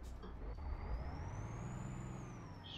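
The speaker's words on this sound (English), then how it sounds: "Yep, trailer's hitting the wall." Euro Truck Simulator 2 heavy truck hauling steel containers, its trailer scraping along a wall: a steady engine drone with a thin rising and falling scraping squeal running continuously over it.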